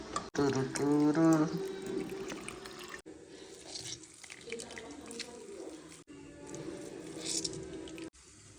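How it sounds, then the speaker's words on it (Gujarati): Water pours from a clay matka in a home kitchen, a bubbling, gurgling stream in several bursts with brief pauses between them, fairly close and moderately loud. "માટલામાંથી પાણી લઈ લઈએ"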